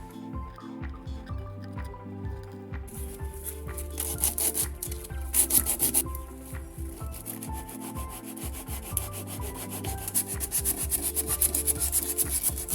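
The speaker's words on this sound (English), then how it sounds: "decided I'll hand sand the panel it's on" Hand sanding of a painted wooden panel on a secretary desk, rhythmic back-and-forth abrasive rubbing strokes, close and steady throughout, with no one talking.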